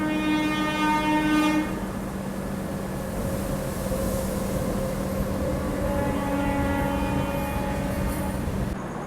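Puri Purushottam Superfast Express running after a stop near Hijli, with a steady loud rolling rumble, sustained horn-like tones in the first second and a half, and continuous rail noise throughout.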